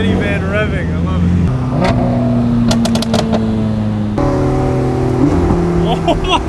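Minivan engine revving nearby with sustained harmonic tones that shift in pitch, accompanied by sharper bursts, while people talk over it.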